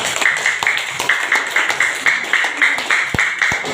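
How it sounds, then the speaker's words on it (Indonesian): A classroom group claps steadily, with scattered individual claps over a continuous ambient hum. "Beri tepuk tangan untuk kelompok 3"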